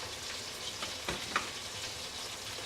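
Butter sizzles softly in a pan beside an onion studded with bay leaves and cloves, a faint steady fry with a couple of small pops and a light clink; no voices.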